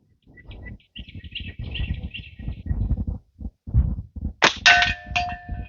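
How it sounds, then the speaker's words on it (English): A slingshot shot strikes a hanging cowbell at a Simpleshot target, giving a bright metallic clang that rings on after some shuffling and handling noise, with faint bird chirps in the background outdoors. "That cowbell. I don't know if y'all can see it hanging up, but hopefully you can hear it if I hit it."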